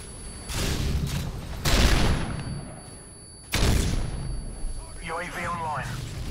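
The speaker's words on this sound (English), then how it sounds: "I'm randomly shooting" Gunfire from M60 machine guns in Modern Warfare 3 comes in two loud, dense sustained bursts separated by a short lull, with game sounds and a brief electronic warble later.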